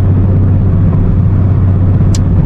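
Ford Mustang GT 5.0 with a loud dump exhaust rumbles steadily from inside the car, a deep continuous engine drone throughout with no talking.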